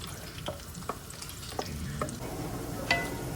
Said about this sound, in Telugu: ఇప్పుడు కిస్మిస్ వేస్తున్నా, జీడిపప్పు. ఒకసారి కలుపుకోవాలి.